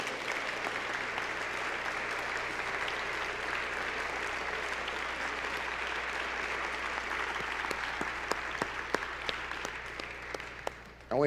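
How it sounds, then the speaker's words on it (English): Sustained audience applause at an MLK Day celebration in Chicago, honoring Attorney James Montgomery: a dense, steady wash of clapping that holds for about eleven seconds, with a few sharper claps standing out near the end. "Please give a big round of applause, of course, to Attorney James Montgomery."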